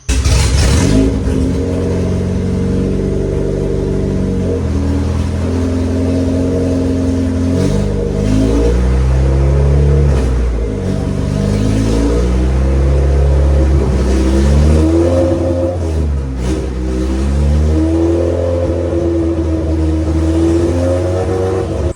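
An AWD Honda Civic engine revs hard and loud during launches, climbing and dropping in pitch through repeated rises as the car accelerates, with the engine drone dominating throughout.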